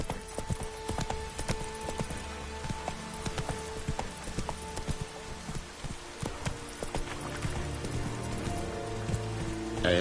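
The horse Roach gallops in The Witcher 3: Wild Hunt, hooves clip-clopping in a fast, steady rhythm over soft rain, close and continuous.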